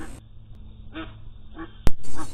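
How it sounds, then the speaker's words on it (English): A single five- to six-month-old duck quacks in short, spaced calls, fairly close, over quiet background, followed by a sharp loud click and a brief burst of noise. "She continues to quack for a long time."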